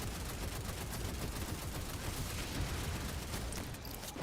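Dense, continuous video-game gunfire from many enemies shooting at the player, a steady rattling barrage with no pauses and no speech over it.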